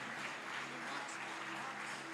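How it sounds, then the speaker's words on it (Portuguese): A church congregation claps during a Brazilian evangelical service, faint, even and continuous applause with no clear pauses. "Aplauda o Senhor."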